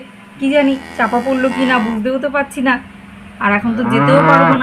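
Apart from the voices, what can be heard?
cows mooing during a storm, cartoon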